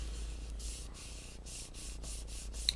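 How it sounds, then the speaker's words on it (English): Quick rubbing strokes over the lid of a small craft model kit, a soft rhythmic close scuffing in about eight even strokes, no talking. "give that a quick rub"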